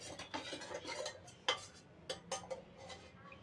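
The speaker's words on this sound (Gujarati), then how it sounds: "તો આવી રીતે આપણે હલાવતા જઈશું અને મિક્સ કરતા જઈશું." Chicken masala being stirred and mixed for a Gujarati chicken dish, heard as light scraping and clinking of a spoon against a pan, with a few sharper taps standing out. No one speaks.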